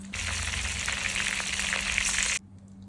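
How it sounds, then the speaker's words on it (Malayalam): Curry leaves and green chilies crackle in hot oil as a garnish for chicken 65, a loud dense continuous spitting sizzle close by that stops abruptly, leaving near silence. "ഇനി ഗാർണിഷ് ചെയ്യാൻ വേണ്ടിയിട്ട് നമ്മൾ കുറച്ച് വേപ്പിലയും പച്ചമുളകും ഇട്ടിട്ട് ജസ്റ്റ് ഒന്ന് എണ്ണയിൽ മൂപ്പിച്ചെടുക്കാം"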